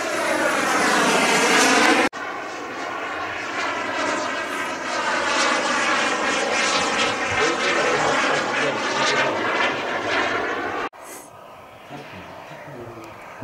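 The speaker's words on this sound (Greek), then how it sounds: "Αν δεις το αεροπλάνο μέσα στο βίντεο" An SM Hawk 100 jet aircraft flies overhead, a loud continuous engine roar that swells and shifts in pitch as it passes close by, then drops away sharply near the end.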